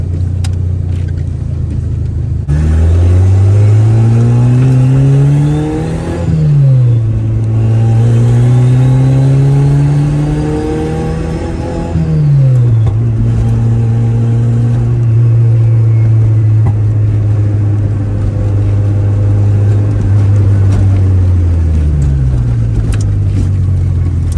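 A turbocharged Honda Civic engine runs loud and close, its pitch climbing and falling through several rev rises and drops, then settling into a steady drone.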